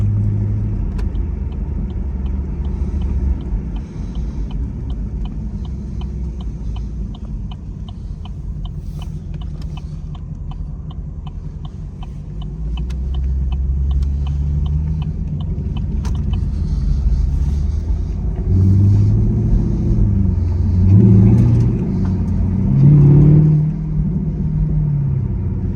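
A small V8 car exhaust burbles and rumbles steadily at a car meet, low and continuous, with the engine note swelling slightly toward the end.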